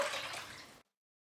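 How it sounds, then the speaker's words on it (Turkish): Water poured onto sugar in a pot to make syrup for a Turkish semolina dessert, a short steady splashing rush that cuts off abruptly after under a second. "4 su bardağı şekere 4 su bardağı su koyuyorum."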